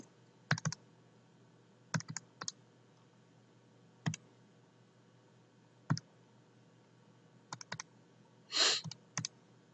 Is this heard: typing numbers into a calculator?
yes